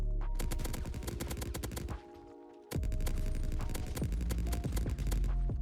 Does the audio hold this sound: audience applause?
no